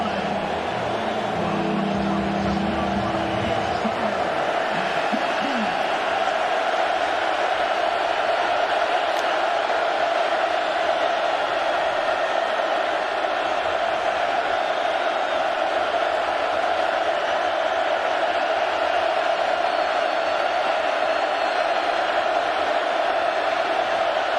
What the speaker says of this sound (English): And here comes the crowd again on 3rd down and 14.